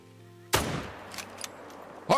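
A single sharp .303 rifle shot fired at a big whitetail buck while hunting in the Call of the Wild game, a loud crack with a short decaying tail, followed by quieter clicks and another sharp sound at the end.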